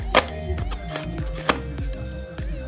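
A manual hand chopper works through vegetables in a quick run of sharp clicks and chops, close and fairly loud with no talking.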